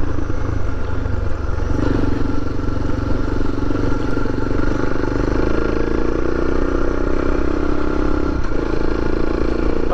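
A Suzuki DR650 or DRZ400 dual-sport motorcycle engine runs continuously while riding on desert terrain, a loud, steady mid-pitched drone with slight shifts in pitch and some rattling clatter.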